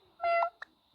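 A short, close cat meow followed by a brief fainter chirp, clear against a quiet background.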